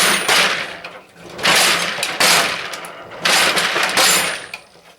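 A billet aluminum Westling socket tray loaded with sockets is slammed onto a mat several times, each impact a loud metallic clatter and rattle, repeated in irregular bursts with short pauses.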